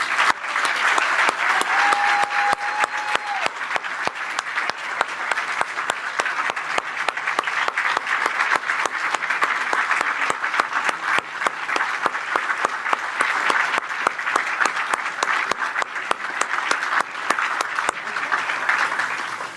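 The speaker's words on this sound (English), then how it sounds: "join me in a round of applause and help me say thank you to our players and our staff members who are here" A crowd claps steadily in a sustained round of applause honoring a team's players and staff after a tremendous season, dense and continuous throughout with no pause.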